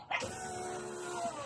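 A power window motor on a jeep runs steadily for over a second, a continuous close mechanical whir that starts abruptly and holds even, with no talk over it.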